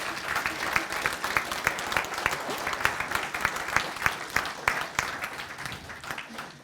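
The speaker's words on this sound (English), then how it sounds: "Give her another round of applause for that." Steady applause from a modest audience, dense overlapping claps holding at an even level before easing off slightly at the close.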